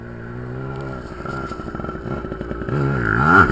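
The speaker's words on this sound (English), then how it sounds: "Little wheelie action." A Yamaha PW80 dirt bike's small engine revs hard during a wheelie, its buzzy tone rising and falling in rapid pulses before climbing loudly near the end.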